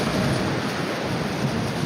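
Near gale force wind buffeting a microphone at a golf course during a women's professional tournament, a steady loud roaring rush with no break.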